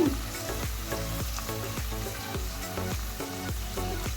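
Chilli potato chips frying in a pan over low gas, a loud continuous sizzle with rhythmic scraping strokes of a spatula stirring them about every half second, close and without talk.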